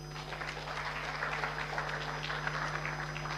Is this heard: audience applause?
yes